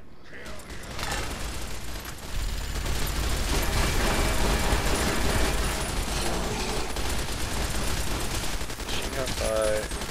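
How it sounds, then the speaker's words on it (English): Sustained rapid machine gun fire in Fallout New Vegas, a dense rattling burst that runs continuously for about ten seconds, loud and close, with mechanical clatter mixed in and a voice heard briefly. "Machine gun fire."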